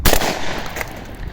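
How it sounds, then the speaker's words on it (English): Iver Johnson HP18 shotgun fired once, a loud close blast at the start with a brief ringing decay and no talk over it. "Fire in the hole, right?"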